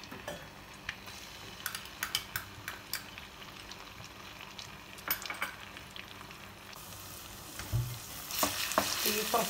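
Ginger garlic paste fries in oil in a kadai for chicken 65, a soft steady sizzle under intermittent spoon scrapes and clinks, swelling into a louder hiss near the end.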